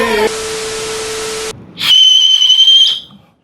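A sharp, sustained whistle blows twice, a lower steady tone followed after a short pause by a higher, piercing one, both loud and close.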